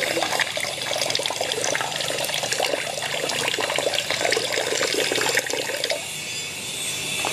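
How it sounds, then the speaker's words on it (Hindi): Water pours steadily into a container to make blueberry juice, a continuous splashing gush close by that fills several seconds and softens slightly near the end. "6 लीटर पानी डालना है"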